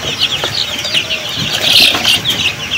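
Chickens cluck and flap around at feeding time, a busy close flurry of clucks and wing noise with no pause across the few seconds.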